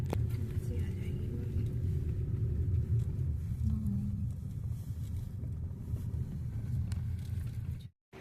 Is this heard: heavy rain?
no